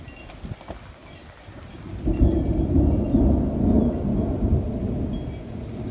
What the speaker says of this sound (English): This storm is coming in hard.